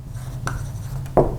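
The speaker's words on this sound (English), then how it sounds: "let me perhaps even write it down" During an econometrics lecture, a pen or chalk writes in short, separate scratchy strokes over a low room hum, close and fairly quiet, with no talk.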